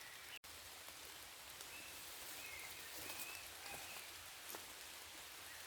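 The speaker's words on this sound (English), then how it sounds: "I'm out in the storm, I'm out in the rain." Rain falls on a tent pitched in a back garden during a storm, a soft, continuous patter of drops, quiet and even throughout, with a few slightly louder drips and no talking.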